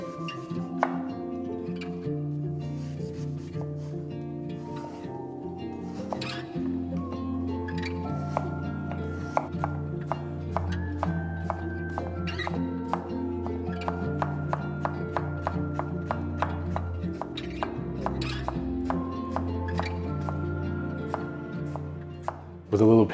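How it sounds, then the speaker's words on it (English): A knife chops a Fuji or Gala apple into fine matchsticks on a board with quick, regular close taps that run steadily throughout, under a sustained musical backdrop. "Chop one Fuji or Gala apple into fine matchsticks."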